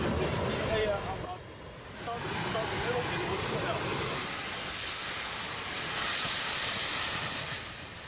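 Cutting torch slicing through worn steel rails, a loud, steady roaring hiss with a brief dip early on, heard close and continuous, with voices talking over it.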